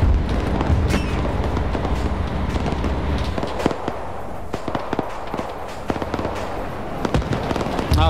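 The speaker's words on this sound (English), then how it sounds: "Oh dear, that one's cooking off." Ammunition cooking off in a burning vehicle during a WW2 combat video game, a steady run of sharp crackling pops and small bangs over a rumbling background, popping irregularly throughout.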